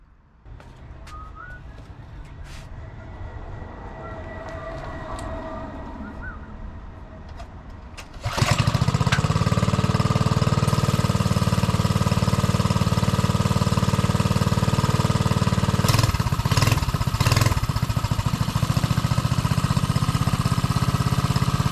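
A Briggs small engine fitted with an oil catch can is cranked, catches after about eight seconds and settles into a loud, steady, close running drone with a few brief rattles.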